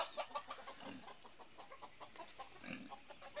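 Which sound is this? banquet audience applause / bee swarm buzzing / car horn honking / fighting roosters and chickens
fighting roosters and chickens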